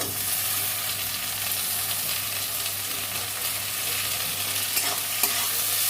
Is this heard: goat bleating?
no